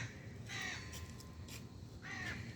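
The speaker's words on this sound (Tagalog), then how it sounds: "naghahanap na naman yung ibon ng pagkain" A crow searching for food caws three times outdoors in Marzahn, loud and fairly close, over a constant rumble of background noise.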